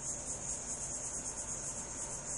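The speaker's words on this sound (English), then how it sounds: "Cicadas. Sounds like where I grew up." Cicadas in a movie scene buzz in a continuous, even, shrill drone, steady and fairly soft throughout with no voices over it.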